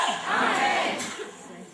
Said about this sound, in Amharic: ጩሁና አሜን በሉ ወዳጆች።